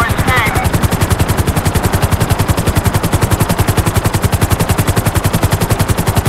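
Police helicopter in the GTA 5 video game, a steady rapid rotor chop pulsing loudly and evenly throughout alongside rattling gunfire-like bursts, with no talk over it.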